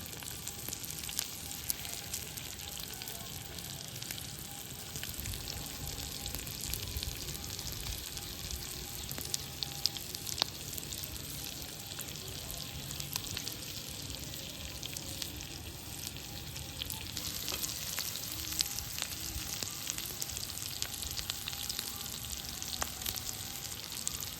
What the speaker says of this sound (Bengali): 1 মিনিটের জন্য আমি এই পেছন দিকটা ভাজা হবে, তারপর আবার ওই দিকটা উল্টিয়ে দেবো 1 মিনিটের জন্য।